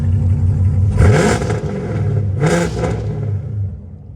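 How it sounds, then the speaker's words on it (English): A 2022 Chevrolet Camaro 2SS 1LE exhaust revs hard twice, each blip rising sharply then settling back into a deep, burbling idle, close and loud. "Listen to that exhaust a little longer."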